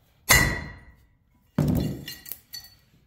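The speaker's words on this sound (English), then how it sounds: "So, hammer time." A hammer strikes a corroded cast aluminum part on an electric motor being scrapped, three sharp metallic clanks with ringing decay, close and separated by pauses.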